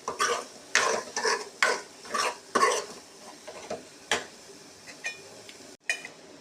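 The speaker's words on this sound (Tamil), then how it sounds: "கைவிடாமல் அப்படியே கிண்டுங்க." A spoon stirs potato and egg fry in an oil pan, giving repeated scraping strokes with clinks against the pan in an irregular rhythm, close and fairly loud over a faint sizzle.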